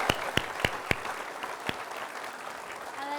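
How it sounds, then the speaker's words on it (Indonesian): Studio audience on an Indonesian TV show applauding for a mother, opening with a few sharp separate claps that settle into a softer, thinner patter of clapping before fading toward the end. "Berikan tepuk tangan untuk ibunya."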